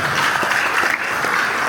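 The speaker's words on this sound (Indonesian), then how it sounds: "Tepuk tangan." Steady, dense audience applause fills a regional church assembly hall in Malinau, a continuous close wash of many hands clapping with no pauses.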